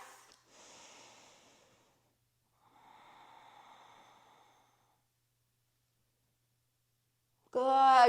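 During a yoga pose, a slow, soft breath is drawn in and then let out through the nose, separated by quiet pauses, before a louder voice cuts in at the end.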